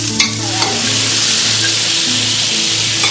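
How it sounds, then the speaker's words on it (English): Raw rice is being stir-fried in a wok with mushrooms, dried shrimp and shallots, giving a loud, steady sizzle along with scraping stirs near the start, close and continuous. "so stir-frying raw rice, basically, just to get that fragrant"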